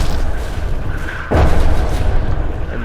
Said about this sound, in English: Yeah, they just died to artillery.